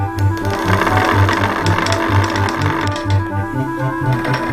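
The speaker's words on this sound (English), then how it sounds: "You then stretch the slivers into yarn on a spinning wheel." Wooden spinning wheel twisting wool slivers into yarn, giving a steady rhythmic low thump about twice per second over a continuous whirring rattle, close and fairly loud with no voices.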